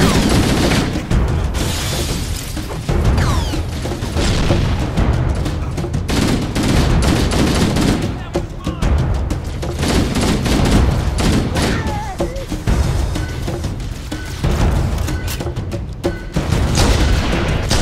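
Heavy stationary gun firing in Halo: Combat Evolved, loud sustained bursts of gunfire with booms and explosions layered over dense game battle noise for the whole stretch.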